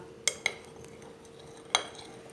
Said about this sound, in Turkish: Ama önce şöyle şu dibindekileri de iyice kaşıkla sıyıralım da.